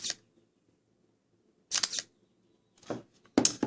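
A Panasonic GX-7 mirrorless camera fires its mechanical shutter in regular mode, two crisp close clicks about a second and a half apart, each a short double snap, in an otherwise quiet room.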